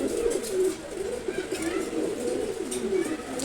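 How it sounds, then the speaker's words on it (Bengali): Pet pigeons coo softly and continuously, with low rolling calls rising and falling close by. "এটা একেবারে প্রথম দিকের কবুতর"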